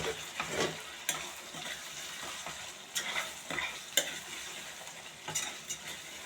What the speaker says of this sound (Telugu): ఎందుకంటే మేము డీప్ ఫ్రై చేస్తున్నాం కదా, వితౌట్ ఎనీ గ్రేవీ